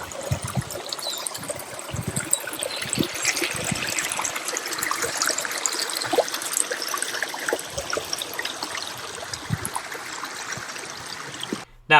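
The River Lee flows under a stone clapper bridge in the Lee valley, a steady close rush and trickle of water running throughout.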